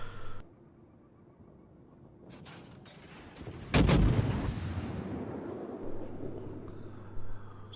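Battleship guns in a naval video game fire a single heavy, booming salvo midway, followed by a long rumbling decay and a fainter later thud, with no voice present.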